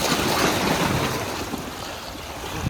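Water washes and churns at the corniche in Dammam, Saudi Arabia, a continuous close rush of waves with wind buffeting the microphone throughout.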